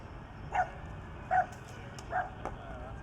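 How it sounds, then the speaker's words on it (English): A dog barks in short sharp yips during a disc golf round, three distinct barks spaced evenly apart, moderately distant over steady outdoor background noise. "Talk about a double bark, huh?"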